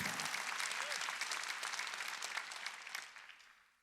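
A church congregation applauds during a Wednesday worship service, a burst of dense clapping that starts loud and gradually fades away over a few seconds.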